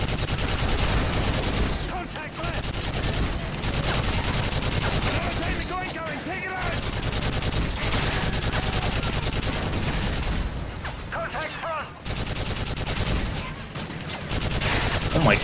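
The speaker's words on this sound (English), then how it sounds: "I love, like, machine gun action" Sustained rapid gunfire from Call of Duty: Modern Warfare 3 (2011) runs loud and dense through most of the stretch, with brief dips, and a voice talks over it at times.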